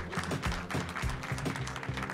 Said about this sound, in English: Please, round of applause for these gentlemen